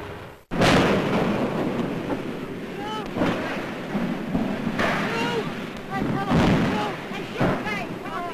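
Hindenburg airship explosion and fire in 1937 newsreel footage, a sudden loud blast after a brief gap, then a sustained roaring, wind-like rumble with bursts, under a narrator and shouting voices.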